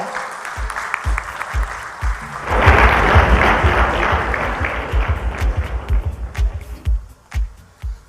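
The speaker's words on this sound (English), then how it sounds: "Ladies and gentlemen, can we please have a round of applause for him?" An audience at an entrepreneurs summit gives a guest speaker a round of applause: a swell of clapping that rises after a couple of seconds and holds, over steady low rhythmic thumping that continues as the clapping fades.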